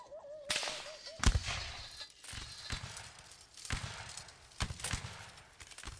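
Volley musket fire in the Napoleonic Wars video game, with a handful of sharp cracking shots scattered across the stretch, several close and loud, others more distant, over a faint background rumble.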